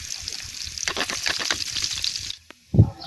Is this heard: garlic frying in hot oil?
yes